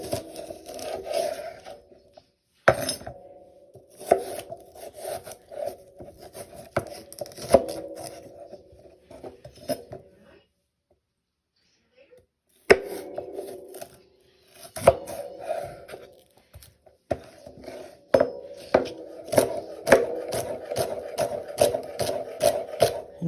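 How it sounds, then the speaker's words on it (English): Washed celery is chopped with a knife on a board: quick, rhythmic taps in bursts, with a brief pause midway before the cutting resumes at a steady pace, close and fairly quiet. "I washed my celery, now I'm going to go ahead and chop this up as well"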